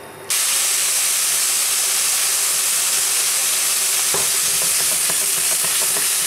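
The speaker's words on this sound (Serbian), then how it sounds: "možemo malo na grill tiganju kad se bude zagrelo da sa jedne i sa druge strane propržimo šnicle" Marinated schnitzels fry on a hot grill pan with a steady, loud sizzle and hiss close by, a few soft stirring clicks and scrapes later; no one speaks.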